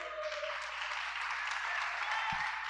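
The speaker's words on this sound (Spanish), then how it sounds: "Recibamos a nuestro pastor con un fuerte aplauso" A church congregation applauds in welcome of its pastor, a soft, even patter of many hands heard from some distance, with a low steady hum underneath and one brief thump near the end.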